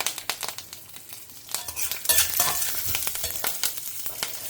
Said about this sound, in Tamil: 2 டீஸ்பூன் கடலைப்பருப்பு. இது கொஞ்சம் பொரியட்டும்